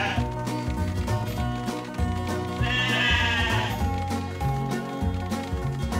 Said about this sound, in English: you hungry sheep,